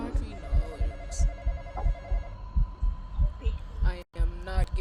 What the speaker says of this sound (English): That phone can keep ringing.